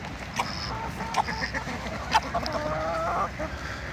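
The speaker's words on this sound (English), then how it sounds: "Geese and ducks are having a blast. Chickens, not so much." Scattered honks, quacks and clucks from geese, ducks and chickens at moderate distance, irregular and overlapping, with a soft outdoor background hum.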